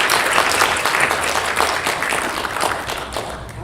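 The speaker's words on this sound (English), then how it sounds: "let's give the choir a round of applause" A church audience applauds a choir, dense continuous clapping from many hands, loud and steady throughout the short stretch.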